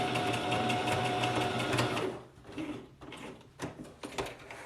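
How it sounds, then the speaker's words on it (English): A sewing machine stitching a T-shirt neckband whirs steadily and loudly for about two seconds, then stops, leaving soft handling clicks and rustles of fabric. "we're stitching the neckband together"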